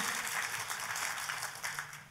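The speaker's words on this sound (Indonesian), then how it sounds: "Tepuk tangannya yang paling meriah buat Tuhan kita" Congregation applauding at a church service, a dense, steady wash of many hands clapping close by, sustained evenly throughout without a break.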